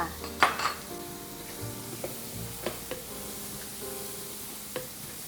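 A steady sizzle of sliced onions frying in melted butter in a pan over moderate heat, with occasional clinks and scrapes of a utensil stirring, close and moderately quiet.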